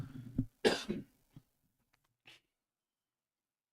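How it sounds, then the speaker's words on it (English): A person coughs a couple of times in quick succession, close and fairly loud, followed by a few quiet throat sounds and then near silence. "I'm going to have a cough."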